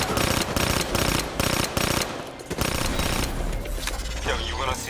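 Rapid bursts of automatic gunfire in Call of Duty Black Ops 3 come in loud, closely spaced volleys that trail into scattered shots and game ambience.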